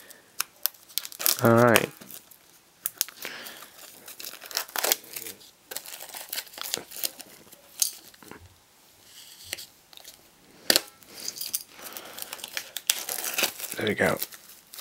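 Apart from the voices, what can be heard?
sharp knife cutting open the Clockwork Orange digibook's wrapping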